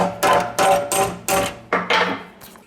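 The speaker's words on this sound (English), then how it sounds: "I just take the big hammer and then just bash things." A heavy hammer strikes metal six times in a steady rhythm, each blow loud and ringing briefly, close by, bashing metal flat while relocating a Nissan 200SX S14 steering rack.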